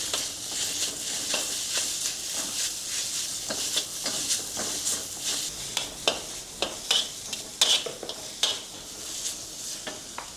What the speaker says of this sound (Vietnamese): Mình sẽ xào cho phần thịt tơi đều ra.